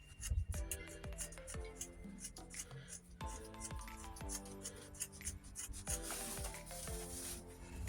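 Pieces of wood being moved and rubbed together while weeding outside beds, giving repeated faint scraping and knocking sounds at close range over quiet background.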